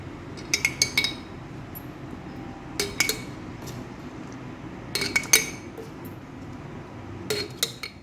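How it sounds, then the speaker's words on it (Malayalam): Homemade Kerala-style gooseberry pickle is transferred into a glass bottle, with repeated bright clinks of a utensil against glass arriving in short clusters over a steady low background hum. "അപ്പോൾ ഇനി ഈ കുപ്പിലേക്ക് മാറ്റണം നമുക്ക്"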